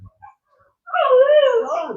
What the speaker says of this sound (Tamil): குட்டி நாய் காத்துது